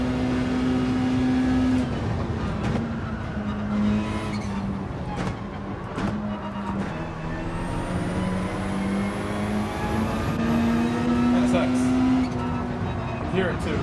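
A Honda NSX race car in Gran Turismo 7 drones steadily along with a sustained engine note that dips and rises as it shifts and accelerates, heard under continuous talk.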